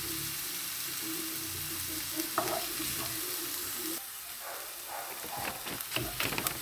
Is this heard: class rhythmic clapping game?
no